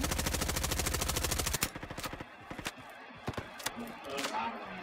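An MP5 submachine gun fires in a video game, first as a rapid continuous burst, then as scattered single semi-automatic shots with loud sharp reports.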